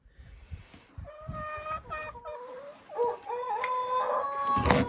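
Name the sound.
chickens clucking and rooster in henhouse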